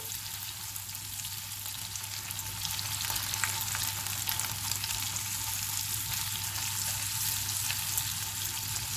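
Whole spices sautéing in butter in a pot for black pepper chicken, a steady close sizzle and crackle running unbroken throughout with no voices.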